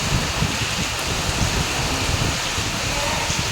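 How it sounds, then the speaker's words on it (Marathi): Heavy rain pouring with gusting wind, a dense, loud, unbroken roar of rainfall throughout. "हवा पण चालू आहे आणि पाऊस पण खूप चालू आहे"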